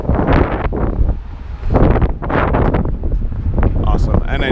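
Heavy wind buffeting a microphone at a roadside stop in the Swiss Alps, loud continuous low rumble with gusts surging and easing throughout.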